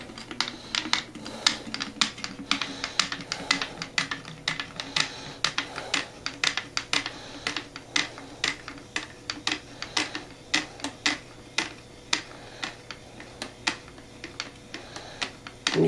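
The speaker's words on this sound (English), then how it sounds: "I'm stirring out some of the gas right now." Wine being stirred vigorously in a fermenting vessel to drive off gas after adding sulfites gives a rapid, irregular stream of sharp clicks and clatters throughout, moderately loud and close, with a faint fizzing bed underneath.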